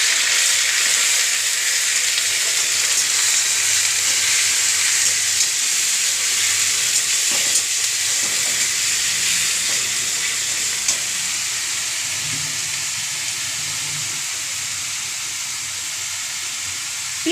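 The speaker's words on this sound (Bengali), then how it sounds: "দেখো পেঁয়াজটা ভাজা হচ্ছে।" Grated onion frying in hot oil in a pan, a dense continuous sizzle with occasional stirring scrapes, close and steady for a long stretch with no talk.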